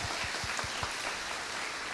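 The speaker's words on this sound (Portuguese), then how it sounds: "Pode bater palmas se quem quiser." A church congregation applauds during a worship service, a dense, steady wash of many hands clapping together for a couple of seconds with no talk audible.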